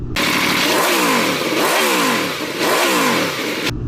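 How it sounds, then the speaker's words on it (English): An Aprilia V4 motorcycle engine revs hard in three rising sweeps, each climbing sharply then falling back, loud and close with a gritty, mechanical edge. "Some of you guys love the sound of the V4,"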